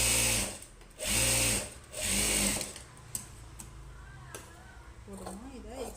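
A sewing machine runs a pressing stitch on a blouse in short bursts of whirring, three loud runs in quick succession, followed by quieter handling sounds and someone speaking.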